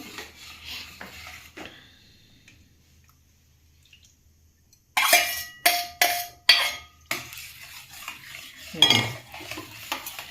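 A spoon stirs milk into broccoli soup in a pot, giving a run of close, sharp scraping clinks against the metal after a quiet pause, with light liquid squishing between strokes.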